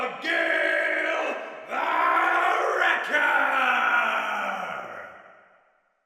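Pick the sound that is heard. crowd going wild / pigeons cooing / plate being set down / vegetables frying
crowd going wild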